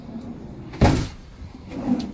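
A large drawer in a 2015 CI Riviera 66 XT motorhome kitchen slides and shuts with a single close, soft thud, followed by fainter rustling movement.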